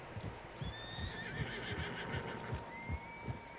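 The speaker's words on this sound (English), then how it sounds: "Horses, quite a few of them." Horses in the video game Red Dead Redemption 2, with several shrill whinnies over steady clip-clop hoofbeats and a low ambient background, fairly close and with no speech.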